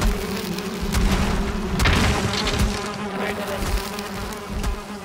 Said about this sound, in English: I got two bees, but I might end up dying here.